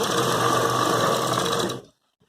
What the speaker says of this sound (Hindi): ये देखिए, मैं सिलाई स्टार्ट कर दे रही हूँ इसको।